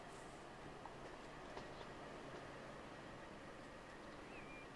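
Pacer diesel multiple unit trains running on an East Yorkshire rail network in the Transport Fever 2 video game, a steady continuous rumble of rolling stock with faint track clicks, heard alone at moderate distance.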